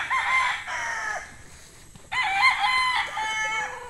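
An 11-month-old stag, a young rooster, crows twice in clear, loud calls, each a strained rising-and-falling cock-a-doodle-doo separated by a short pause.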